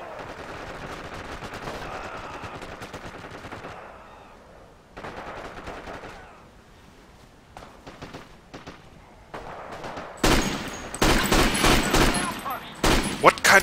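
MG34 machine gun fire in Forgotten Hope 2: scattered distant shots and bursts, then loud close strings of rapid automatic fire crashing in toward the end, with voices talking underneath.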